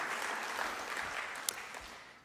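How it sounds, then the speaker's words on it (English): An audience at a high school spring band concert claps in a brief, dense burst of applause that fades over about two seconds, with no talking. "Let's give one more round of applause for Shannon and her arrangement of that piece."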